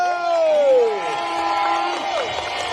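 At an award celebration, a crowd cheers loudly with high, sliding screams and whoops from many voices, forming a continuous, close roar with little distinct clapping.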